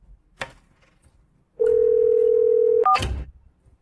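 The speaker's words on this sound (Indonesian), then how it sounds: "Aku harus telepon." A telephone dial tone sounds steadily for over a second before a few quick dialing beeps, loud and close, with faint room noise around it.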